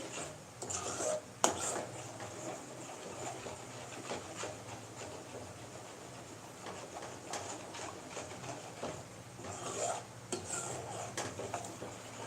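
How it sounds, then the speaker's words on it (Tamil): Urad dal kali, a black gram porridge, being stirred in a pot, heard as faint scraping and clinking of a spoon against metal over a low steady background hum, with occasional sharper knocks. "அதனால தான் கொஞ்சோண்டு உளுந்தங்களையை மிக்ஸ் பண்ணி கிண்டிக்கிட்டு இருக்கேன்"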